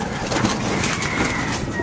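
A racing pigeon coos on arrival at the loft after a 140 km summer training race in Plaridel, Quezon, its soft, throaty coo up close over steady outdoor background noise.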